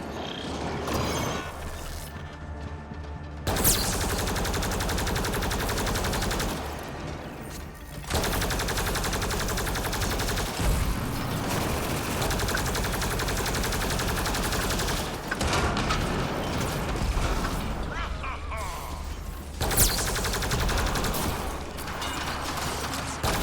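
Sustained automatic gunfire from a turret in the Mass Effect Andromeda video game, loud rapid bursts with mechanical clatter running almost continuously, pausing briefly between volleys.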